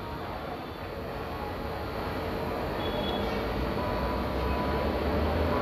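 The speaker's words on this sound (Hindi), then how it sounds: "फ़िलहाल अभी ट्रेन आ रही है" A Tejas Express train on the Rajendra Nagar to New Delhi route arriving at a station, heard as a steady, broad rumble that slowly swells in loudness, with no talk.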